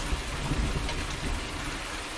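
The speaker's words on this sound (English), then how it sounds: "rain now really setting in. We've got the thunder rolling in as well." Steady rain falls around a farm's animal pens, a soft, even hiss of drops with faint low rumbles beneath, quiet and continuous for the whole short stretch.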